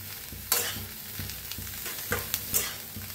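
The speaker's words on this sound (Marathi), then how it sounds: "बघा अशी मक्का छान अशी भाजायची, डाग पडूस तर भाजून घ्यायची आणि असं हलवतच भाजायचं" Corn kernels dry-roasting in a pan with constant stirring, giving a soft rustling sizzle broken by sharp scraping strokes of the utensil at irregular intervals, heard close with no voices.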